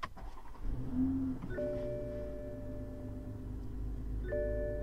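Toyota GR Supra switched off and started again: a soft electronic chime and a few steady tones, then a second chime partway through, over a low idling hum inside the car, with no one talking.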